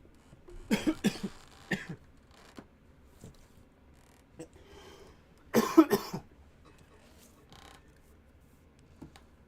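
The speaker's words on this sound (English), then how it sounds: "That bunch of coughing was unplanned." A burst of harsh coughs near the mic, a few early spaced hacks, then a loud cluster midway, with quiet gaps and a faint last cough.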